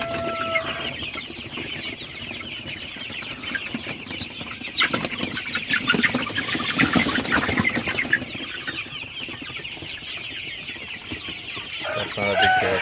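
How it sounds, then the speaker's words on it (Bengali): Sonali super hybrid chickens on a farm cluck and squawk steadily for the whole stretch as they are shooed toward water, the flock noise swelling in the middle with occasional wing flaps. "পানি দেওয়ার পরে মুরগিগুলাকে আমি একটু তাড়াই দিতেছি যাতে সব মুরগিগুলা পানি খাইতে পারে।"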